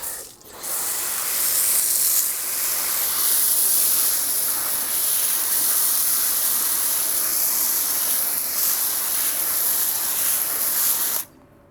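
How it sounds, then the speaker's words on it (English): An MJJC Foam Cannon S V3.0 sprays foam onto car wheels with a loud, steady, high-pitched hiss that runs unbroken for about eleven seconds before cutting off abruptly. "we're gonna continue foaming up the wheels"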